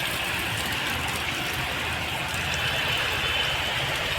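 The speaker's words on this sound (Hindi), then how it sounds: "बहुत तेज हो रही है अब तो बारिश।" Heavy rain pours steadily over a park, a dense constant hiss that stays loud and unbroken throughout, with no talking.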